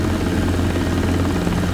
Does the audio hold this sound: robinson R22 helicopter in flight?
yes